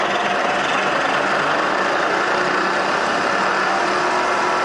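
A Lion milling machine runs at 1,000 RPM, giving a loud, steady mechanical whirring drone that holds without change from start to finish.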